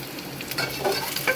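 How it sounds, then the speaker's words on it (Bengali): Chopped onions frying in a pan for a chicken curry, a steady close sizzle with small crackles and pops, brief and moderately loud. "পেঁয়াজটা ভাজা ভাজা হলে পরে আমি রসুনটা দিয়ে দেবো।"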